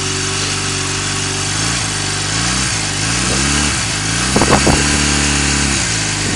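A 2000 Honda Rebel 250 motorcycle idles loud and steady just after a cold start, with a low, even engine note that shifts pitch a few times and picks up a brief rougher burst near the end.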